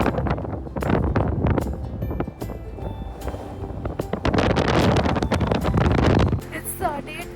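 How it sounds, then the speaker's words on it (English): Strong wind in San Francisco buffets the microphone in heavy, continuous gusts while someone talks over it throughout. "You hear that SF wind, right?"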